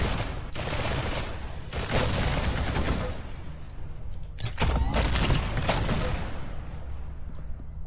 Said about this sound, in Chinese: 火箭炮，它可装四发，我们的备用弹有19000。